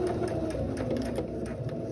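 Sewing machine running steadily while stitching a double welt pocket in fabric, a continuous near mechanical hum with rapid needle rhythm and no break throughout.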